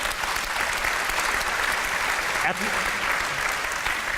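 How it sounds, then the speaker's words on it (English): Conference audience at a fashion industry summit in Copenhagen claps in a steady, dense wash of applause that holds throughout, with a voice briefly rising near the end. "At least I got one clap for Rana Plaza"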